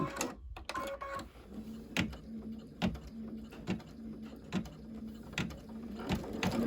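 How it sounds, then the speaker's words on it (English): An embroidery machine stitching fabric down on a puffy-foam coaster, a close, steady mechanical clatter of regular needle strikes with a whirring hum between them. "now this is going to stitch this fabric down"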